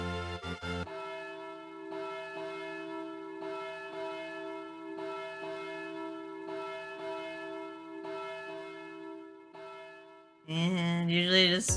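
Wedding bells tolling in the video game Harvest Moon DS Cute, a chiming church-bell melody with repeated rhythmic strikes and ringing tones, followed by a brighter burst of jingly game music at the end.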